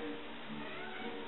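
A pet cat meows indoors, a drawn-out, fairly close call that sounds muffled and dull, with no talking over it.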